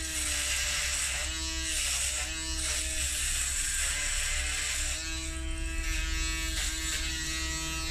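Electric hair clipper trimming a beard: a close, continuous buzzing hum whose pitch shifts slightly as it moves through the hair, steady throughout with no speech.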